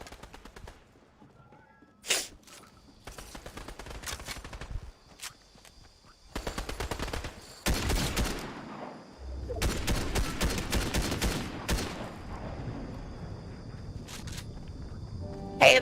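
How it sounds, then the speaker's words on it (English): Rapid bursts of video game gunfire, machine-gun volleys and scattered single shots, come in repeated clusters across the stretch with brief lulls and some footsteps between them, loud and close. "Are they shooting at you?"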